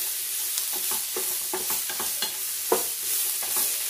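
Long beans (achinga) stir-fry in coconut oil with roasted spice powders. A steady sizzle is broken by regular scraping stirs and occasional sharper knocks against the pan.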